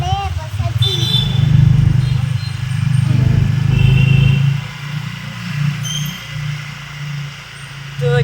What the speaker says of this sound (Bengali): তো এটা হচ্ছে আমাদের সানডে স্কুটি রাইডিং।